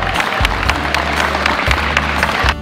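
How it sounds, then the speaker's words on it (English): Loud, dense applause from an audience of parents and staff at a Bring Your Child to Work Day event, sustained clapping filling the room without a break. "So give yourselves a big round of applause."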